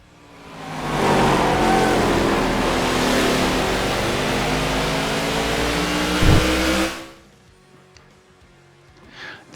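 A NASCAR stock car engine roars loudly in NASCAR The Game: Inside Line, rising in as the car approaches, holding a steady high-revving drone, then cutting off abruptly and leaving faint residual noise.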